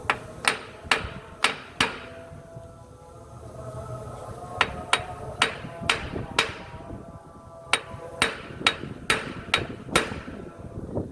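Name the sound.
sledgehammer striking pin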